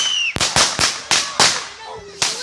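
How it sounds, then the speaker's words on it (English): Firecrackers burst outdoors in a quick irregular series of sharp, loud cracks, about six close pops in a row after a brief whistle at the start. "Who threw that firecracker?"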